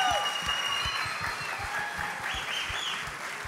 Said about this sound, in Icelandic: mér finnst við ættum að gefa þeim gott klapp krökkunni sem að hafa verið hérna í músíkinni